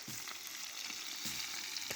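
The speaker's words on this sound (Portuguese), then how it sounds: "na beira do fogo, fritando tucunaré pra eles comerem no almoço" Tucunaré fish frying in a pan over an open fire outdoors, a steady close crackling sizzle that runs the whole time with a few louder pops and stirring clatters.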